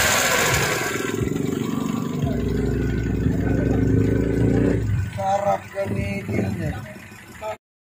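A Toyota Corolla small body car engine idles at close range, its steady low rumble rising into revs, with a tuned note coming through under voices and background chatter at a nighttime gas station meetup.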